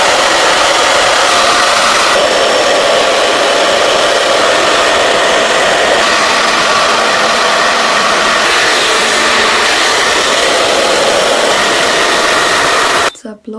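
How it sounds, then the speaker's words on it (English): A Babyliss hairdryer blows hair dry with a loud, steady, close-up roar that runs without a break and cuts off abruptly at the end. "Let's put on my trusty Babyliss hairdryer."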